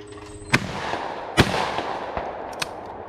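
Shotgun blasts at a sporting clays course, two sharp loud reports about a second apart with fainter distant shots from other stations echoing afterward, outdoors.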